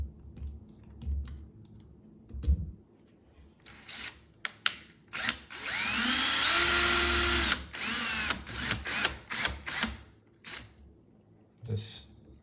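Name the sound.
power drill driving screws for thermostatic valve installation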